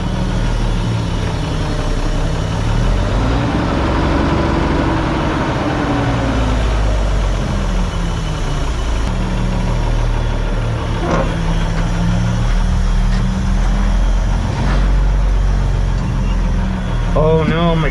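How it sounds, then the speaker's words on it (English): Heavy truck engine idling with a low steady rumble while its air brake system builds pressure, a worn-out vehicle with a failing clutch; a voice speaks over the running engine throughout. "I can hear the air still building up."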